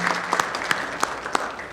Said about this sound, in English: give Mrs. Westby, Mr. Kashmer, and Dr. Bransfield a round of applause